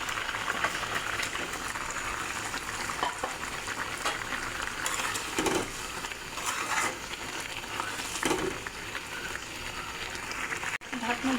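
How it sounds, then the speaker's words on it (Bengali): Fish curry gravy for a spicy phesa fish jhal boils in a pan, a steady, close, continuous bubbling hiss with a few soft clinks along the way. "ঝোলটা ফুটে গেছে,"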